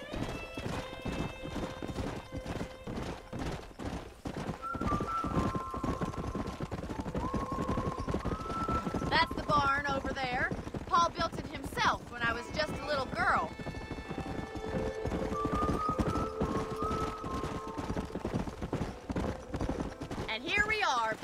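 A horse ridden in Red Dead Redemption on Xbox One X clops along in a steady rhythmic gait, hoofbeats continuous throughout, with occasional whinnies and snorts layered on top and game dialogue voices between.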